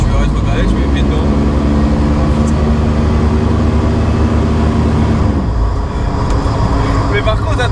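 An American 5.7-litre V8 with a four-speed gearbox drones at steady, loud revs for several seconds before easing off, then builds again, heard from inside the car.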